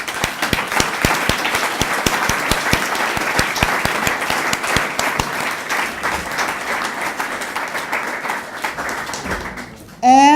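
A hall audience applauds honoured guests at a human rights center event, warm sustained clapping with sharp individual claps in front, gradually thinning before a voice returns at the end.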